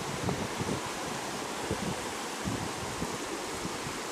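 Strong floodwater rushes along a street in Mae Sai, Thailand, a loud, turbulent broadband wash mixed with gusty wind buffeting, with no speech.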